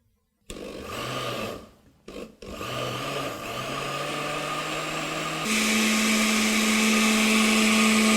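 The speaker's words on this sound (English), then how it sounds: "Now puree of spinach ready to be blended to make it puree." An electric blender pureeing spinach: the motor starts loud, dips and cuts out twice briefly, then runs steadily and rises to a higher, harder whir for the last few seconds.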